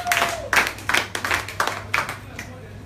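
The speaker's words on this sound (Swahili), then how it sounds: "Tupigie Bwana makofi makubwa." A church congregation claps together during a Bible study and prayer meeting, the claps coming in a steady, evenly spaced rhythm at close range with a faint voice underneath.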